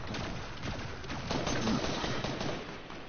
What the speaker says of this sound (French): Il y a des tirs, hein, là, il y a des tirs.